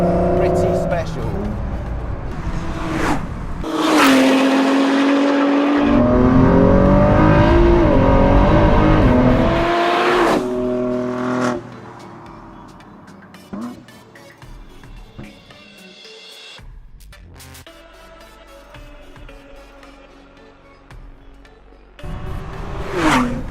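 A Ford GT with a 647 bhp 3.5-litre twin-turbo V6 drives along a coastal road in Norway, its engine loud and rising through gears, then easing to a quieter cruise before swelling again near the end.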